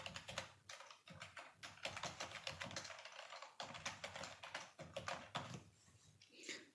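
Someone types a domain name on a computer keyboard in quick, steady runs of close, light keystrokes with brief pauses and no talking.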